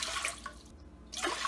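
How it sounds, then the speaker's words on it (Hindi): Water poured into a pressure cooker for cooking masoor dal, a close splashing gush in two short bursts with a brief quiet gap between, no talking. "कुकर हमने रखी है, इसमें पानी डालेंगे।"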